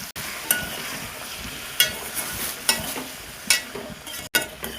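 Onions and potatoes are stirred and sautéed in a hot pan, a steady sizzle running under repeated scraping strokes of a spoon against the metal, close and moderately loud.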